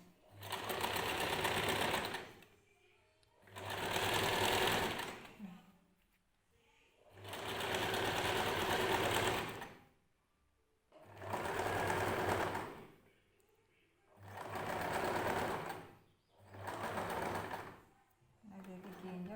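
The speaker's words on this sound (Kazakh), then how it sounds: "Енді мына жағын қазір тіге беремін." A sewing machine stitches a long dress in six loud bursts of a few seconds each, separated by short pauses, with no talk over it.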